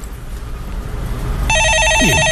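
An office telephone rings with a steady electronic trill, loud and close, cutting in sharply midway after a stretch of quiet room noise.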